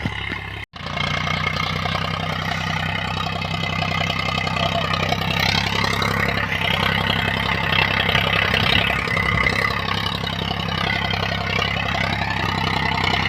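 Farm tractor engine idling while stopped in a field, a steady low rumbling drone held near and loud throughout, broken only by one brief dropout near the start.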